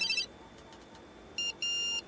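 A mobile phone rings indoors with short, bright electronic tones: one brief burst, a pause with quiet room noise, then two louder beeping bursts, with no talk.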